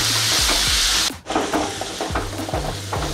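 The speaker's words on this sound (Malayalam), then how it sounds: "2 അരിഞ്ഞത് ഇങ്ങോട്ടിട്ട് ഇതൊന്ന് നല്ലപോലെ വഴന്ന് വരട്ടെ" Two chopped onions sauté in hot oil in a pan for Malabar chicken curry, giving a steady bright sizzle broken by a brief dip, with repeated clacks of a spoon stirring close by.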